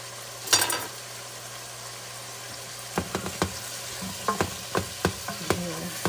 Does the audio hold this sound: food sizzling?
yes